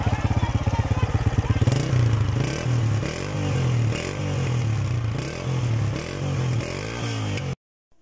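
A Deluxe 125 motorcycle engine runs close by with a rough, throbbing idle that surges in several revs, with a rattly mechanical clatter throughout before it cuts off abruptly.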